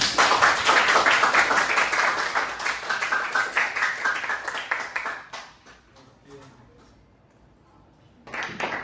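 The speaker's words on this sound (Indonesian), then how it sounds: "Oke, tepuk tangan ya teman-teman" Classroom students clap their hands together, a lively burst of many small hands lasting several seconds before thinning out to scattered claps and quiet, then a brief return of sound at the end.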